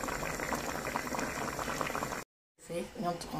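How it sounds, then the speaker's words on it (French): Watermelon sauce with vegetables simmers in a pot, bubbling steadily and close by. After a brief dropout the bubbling continues under a voice. "Je laisse cuire un peu en amont, comme tu dis, mijoter avec les légumes d'abord."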